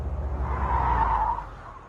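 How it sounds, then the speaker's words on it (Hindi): A car rolls up and brakes to a stop, low engine rumble under a rising tire squeal that peaks midway and then fades as the vehicle settles, fairly close by. "गाड़ी आ गई है, शायद आ गया।"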